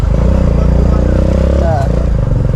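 A motorcycle engine runs loud and close near a parking area on the way to Mt. Banahaw, a steady low rumble throughout while voices carry on nearby.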